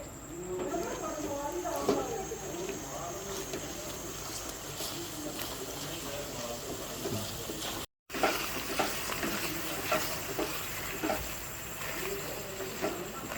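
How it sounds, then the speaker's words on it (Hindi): Cream being stirred into Mughlai chicken in a pan, a quiet low sizzle with occasional soft scrapes and clicks of a spoon, a faint background hum, and a brief dropout partway through. "थोड़ी सी हम इसमें क्रीम ऐड करेंगे और इसको मिक्स करेंगे।"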